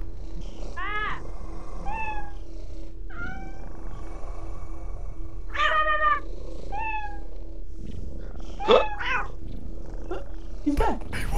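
A cat in Lethal Company meows repeatedly in short, clear, rising calls spaced across the clip, over a low steady hum with occasional faint voices.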